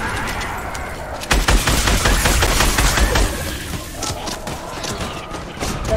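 Loud, rapid automatic gunfire in the video game Fortnite, snow storm mode, with bursts of shots rattling close for several seconds amid mechanical clicks and clatter, easing off near the end.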